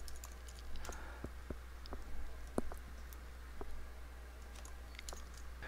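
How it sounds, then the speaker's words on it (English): Sparse, light clicks from a computer mouse in a quiet room, a few isolated taps spread over several seconds along with faint keyboard-like ticks, no voices. "You click here on their log groups."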